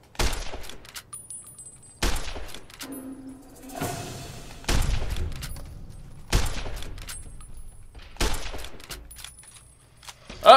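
Varmint rifle shots in Fallout New Vegas ring out as sharp, loud cracks, about five single shots spaced roughly two seconds apart, each trailing off before the next.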